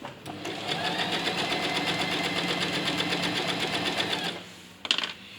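A sewing machine stitches a rib seam in fabric with a steady, fast, close whirring rattle for about four seconds, then stops with a brief clack at the end.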